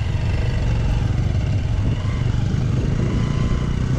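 A motor scooter being ridden gives a steady, loud low engine drone mixed with road and wind rumble, continuous from start to finish without a break.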